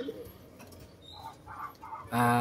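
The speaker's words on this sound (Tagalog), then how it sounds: "Tingnan natin ang tikas ng mga ibon na to" Blue barless and brown barless pigeons coo softly in a loft, a few low, rounded calls heard fairly close, with faint background noise and a louder burst at the end.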